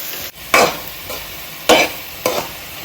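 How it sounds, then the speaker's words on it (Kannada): Tempering spices for a desi-style Maggi hit hot oil in a pan, with three sharp bursts of sizzling and stirring close by over a low background hiss, no voices. "ಇದು ಬೇಸಿಕ್ ಒಗ್ಗರಣೆ ಇವಾಗ ಎನಿ ಅಡುಗೆ ಮಾಡುವಾಗ ಇದಿಷ್ಟು ಬೇಸಿಕ್ ಹಾಕ್ತೀವಲ್ಲ ಇಷ್ಟೇ ಹಾಕೋದು"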